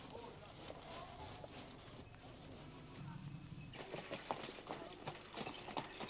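Cob draft horses, a light French draft breed, clip-clop their hooves steadily at moderate distance, with wind noise and some background voices mixed in, the hoof beats growing busier and louder toward the end.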